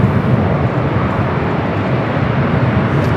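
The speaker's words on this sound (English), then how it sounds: "a United Dreamliner coming up from Newark, flight 2692, a 787-10 Dreamliner" A United Boeing 787-10 Dreamliner from Newark touches down at LAX, giving a steady, loud, broad jet roar that stays constant throughout.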